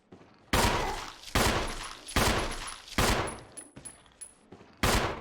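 Gunfire in the Resident Evil HD Remaster video game, a series of loud, sharp shots spaced about a second apart, each with a ringing tail, with no talk over them.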